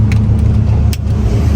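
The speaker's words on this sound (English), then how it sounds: "Probably for that exhaust because it's absolutely ridiculously loud." Loud supercar exhaust rumbling on a downtown San Francisco street, a heavy low-end drone holding steady throughout with a brief sharp crackle near the end.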